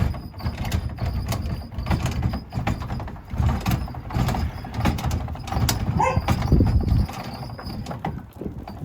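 A 2010 Coachmen Clipper Sport 106 UD pop-up camper lid is cranked down by hand, giving a continuous low rumbling, clicking mechanical grind with creaks and knocks, close by and steady throughout, with wind outdoors and no talk.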